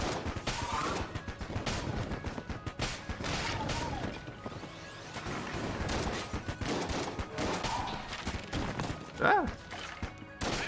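Rapid bursts of gunfire from the pitchfork gun in the video game Enter the Gungeon, with dense shots and crashes throughout and a man's brief exclamation over the action.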